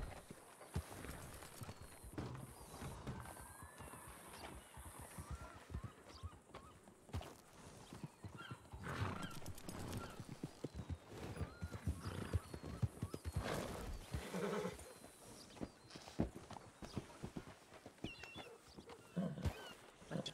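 In a ranch roleplay video game, horse hooves clop faintly over uneven ground and the horse whinnies now and then, a low busy mix of footfalls and animal calls.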